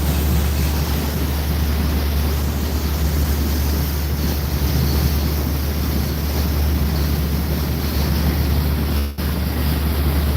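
Strong wind buffets the microphone on the open deck of a lake cruise boat at Cheongpung Lake in Jecheon, making a loud, steady roar over rushing water and engine rumble, with a brief dip near the end.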